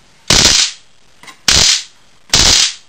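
A spark gap firing from a high-voltage pulse circuit in a pulse-motor build: three loud, sharp crackling snaps about a second apart, each fading quickly, with a faint tick between the first two.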